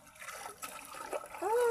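Water splashes from a dipper during a bath in a cold creek, a few quick splashes and trickles up close, ending in a louder rush of pouring water.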